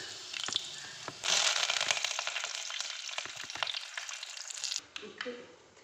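Mustard seeds and black gram dal splutter in hot oil with quick crackling pops over a bright sizzle, close up, swelling after a second and fading near the end.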